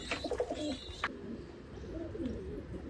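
Grey Kamgar pigeons on a rooftop loft in Amritsar give soft, low coos in a quiet setting, with a few faint rustles and higher chirps early on.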